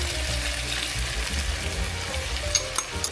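Garlic and ginger sizzle in a frying pan as sauce is added, giving a close, steady crackling fry with a few sharper spits near the end.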